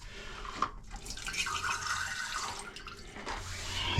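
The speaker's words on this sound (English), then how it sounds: "It's dripping water and" Water drips and trickles from a leaking faucet in a quiet room, close but faint, with soft splashes and a light running hiss.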